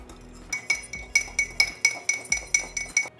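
A spoon mixes pancake batter in a mug, giving about a dozen bright ceramic clinks in a quick, steady rhythm, close and clear with no talk.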